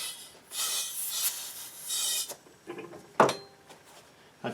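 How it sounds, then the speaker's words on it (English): Air is pumped into a two-wheel dolly's inner tube during a repair: repeated broad, hissing strokes up close, followed by a few scattered clunks and a sharp knock. "let's put some air in the tube"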